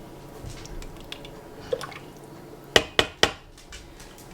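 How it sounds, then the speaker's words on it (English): Whole beans are stirred inside an Instant Pot pot, giving soft wet shuffling followed by three distinct clinks of a utensil against the metal insert, close and fairly quiet. "Now I'm going to add in my whole beans. Give that a mix."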